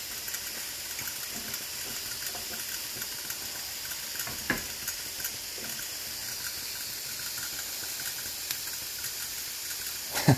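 Teriyaki chicken sizzles steadily on a grill, a continuous close hiss with occasional small pops and clicks and no voices.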